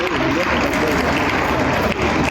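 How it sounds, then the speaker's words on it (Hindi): Applause from a convocation audience at Siddharth University, a steady broadband patter of many hands clapping throughout at moderate distance, with a voice faintly present. "और जोर से ताली लगाओ।"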